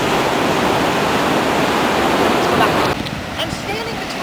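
Ocean waves crash against a coastal cliff and headlands near a natural bridge, making a loud, steady broadband roar of surf. The roar drops off abruptly near the end, leaving a softer wash.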